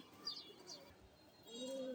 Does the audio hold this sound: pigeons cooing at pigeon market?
yes